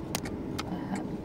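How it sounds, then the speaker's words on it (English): Passing cars in busy evening traffic at sunset, a steady low road rumble with a few brief swishes of vehicles going by close at hand. "there's so many cars"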